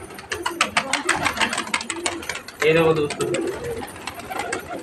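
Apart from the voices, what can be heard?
crested pigeons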